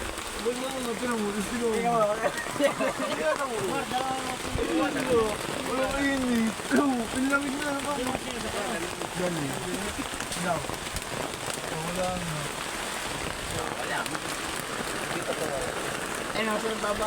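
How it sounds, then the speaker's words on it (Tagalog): Heavy rain pours down in a constant loud hiss, drumming on a nearby surface, while people talk underneath it. "Sa sobrang lakas ng ulan kami nakasilong lahat."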